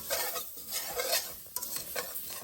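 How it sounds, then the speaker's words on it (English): Onion and flour brown together in a pan with a crackling sizzle and repeated scraping stirs of a utensil, up close and without talking. "I'm just browning the onion and the flour together"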